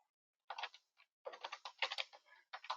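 Quick bursts of keystrokes on a computer keyboard, close and clear, come in uneven clusters with brief pauses between them, with no other sound around.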